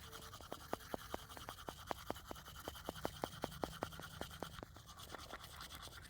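Toothbrush scrubbing teeth in quick, regular back-and-forth strokes, a rhythmic brushing close by but faint, with no talk over it.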